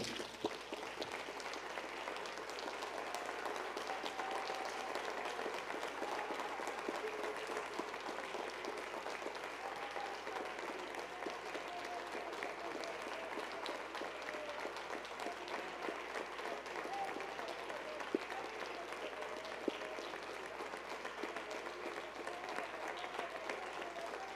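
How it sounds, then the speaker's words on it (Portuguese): A church congregation applauds steadily for over twenty seconds, a dense, even wash of clapping at moderate distance with no talk over it. "Vamos aplaudir o nome de Jesus."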